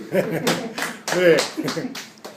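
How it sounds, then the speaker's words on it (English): A classroom of students gives a brief, scattered round of applause, a few uneven claps over two seconds mixed with voices talking. "Can you give me a round of applause, please?"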